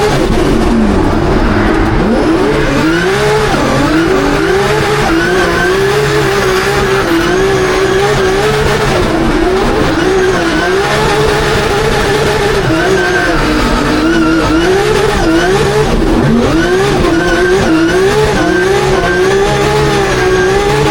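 Drift cars at a Drift Masters round in Ferropolis, Germany launching off the line, engines revving hard and wailing up and down with tire squeal, loud and continuous throughout.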